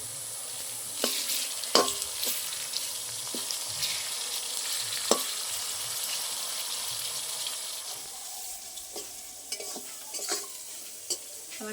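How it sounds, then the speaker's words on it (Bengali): Salted, turmeric-coated prawns fry with onions in a pan, producing a steady bright sizzle broken by occasional sharp crackles and the scrape of a spatula stirring. "আমার পেঁয়াজের সাথে চিংড়ি মাছগুলো ভাজা হয়ে গেছে"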